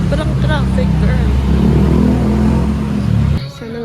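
Road traffic in Baguio rumbles steadily up close, a dense low engine drone with passing vehicle noise, before dropping off abruptly near the end.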